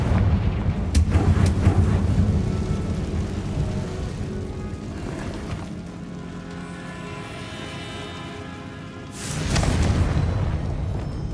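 Confringo blasting spell explosion in Hogwarts Legacy: a loud close blast with a heavy rumbling tail that slowly fades, then a second booming burst near the end, with no talking.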